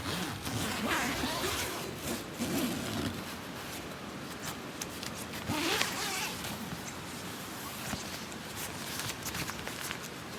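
Zip on a popup tent pulled open in rain, several scratchy zipping strokes in bursts with rustling fabric close by, no talking.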